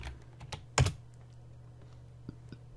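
A few computer keyboard key presses during an EcoSim simulation tutorial: one loud, close click cluster near the start, then a couple of fainter, isolated taps over quiet background.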